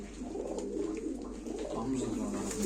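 Pigeons coo softly in a bird sale setting, low murmuring calls running continuously close by, with a voice talking over them.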